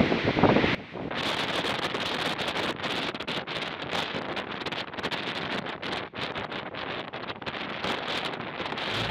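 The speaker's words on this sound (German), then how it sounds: "Damit der liebe Herr Reusch sehen kann, wie mein Pferdchen hier gleich waagerecht im Wind steht." Strong gusty storm wind from hurricane-force Storm Sabine at Dagebüll on the North Frisian coast buffets the microphone with a loud, rumbling roar, surging and dipping irregularly throughout.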